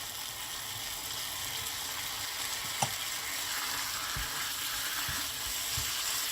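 Chicken kachori filling of broth and sweet peas bubbles and sizzles steadily in a pan on a high flame, with a single faint clink partway through.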